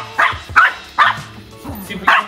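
Several dogs bark in short sharp bursts while chasing a lure on a pole, close and loud, about five barks in an uneven rhythm with whines and movement between them.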